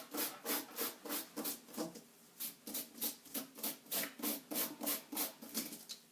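Brush scrubbing back and forth through a firearm bore with cleaner, a quick series of soft, rhythmic rasping strokes, close and fairly quiet, with no talking.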